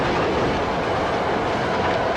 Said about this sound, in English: He takes the subway.